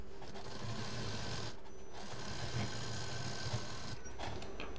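A sewing machine runs steadily while stitching a large travel bag, a close, continuous mechanical whir with brief pauses and slight speed changes, and no talking.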